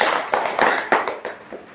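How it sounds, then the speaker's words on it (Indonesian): A classroom of students claps hands together in a short burst of four or five uneven, close claps that fade quickly. "Tepuk tangan dulu."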